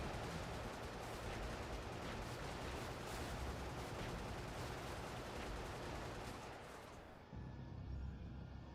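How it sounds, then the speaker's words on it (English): Mortar rounds firing in a video game battle: a dense, continuous barrage of booming blasts and crackling gunfire, loud and sustained, thinning out near the end. "Mortar rounds."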